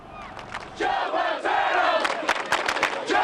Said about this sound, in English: Hundreds of students cheering, holding signs and chanting outside of Joe Paterno's home